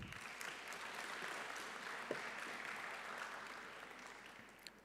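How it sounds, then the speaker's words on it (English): A conference audience claps in a sustained round of applause, an even wash of many hands at moderate distance lasting several seconds. "Let us welcome him with a round of applause."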